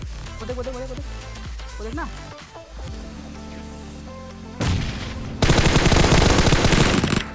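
Rapid automatic gunfire from a mobile battle-royale shooter game, with bursts of shots rattling over background game sounds and a voice talking, growing into a dense, loud barrage toward the end.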